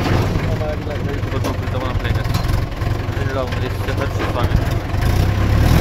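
A tractor engine runs steadily while sugarcane is loaded in a field, a loud, constant mid-pitched drone close by, with people talking over it.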